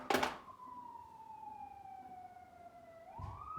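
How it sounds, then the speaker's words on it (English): A siren wails past outside, its steady falling tone drifting at a distance before rising again briefly at the end. "Sirens are going past my house."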